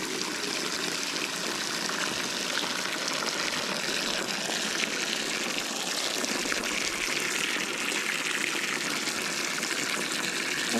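Fresh water poured into a farm animal's trough or bucket on a farm in the morning, a steady rushing gush that runs continuously and fairly close without a break, with no talking over it.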